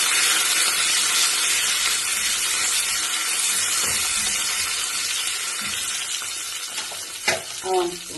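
Pineapple fries in a pan with crushed garlic and curry leaves, a loud continuous sizzle close by. Stirring and clinks of a utensil come through near the end.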